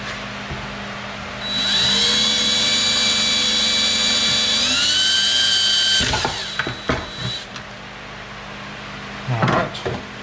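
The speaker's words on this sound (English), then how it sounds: "Go ahead and drill a hole." A power drill bores a hole for wiring running lights on an Xi3, a steady whine that rises briefly then cuts off, followed by a few clicks and handling knocks nearby.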